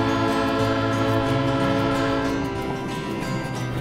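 A train on the Leadville railroad in Colorado, its horn blowing in a long steady blast over a continuous low engine rumble, loud and close throughout with no talk.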